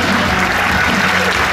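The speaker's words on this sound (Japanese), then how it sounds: "みんなもっと大きな拍手をね。" An audience at a dance battle final bursts into a dense, continuous wash of applause that is loud and close, with no gaps.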